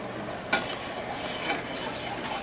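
A spoon scrapes and stirs chicken in a boiling cornstarch sauce in a pot, with a sharp clink near the start and a steady simmering hiss underneath.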